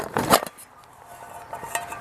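Metal clinks and clatters as hands rummage through a metal camping cooking pot outdoors, a couple of quick rattling knocks followed by fainter scrapes, close by and alone.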